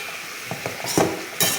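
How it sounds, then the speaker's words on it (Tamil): Tomatoes and tamarind for tomato pickle are sautéed in a pan, giving short bursts of sizzle with a few quick scrapes and light clinks of a spatula against metal, close and fairly loud, no talk. "இப்போ இதை வந்து நான் வந்து நல்லா வதக்கிக்கிறேன்"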